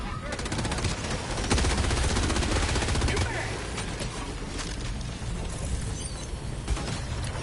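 Mortar strikes and sentry gunfire in Helldivers 2 form a dense, loud barrage of rapid automatic bursts and heavy impacts that runs the whole time.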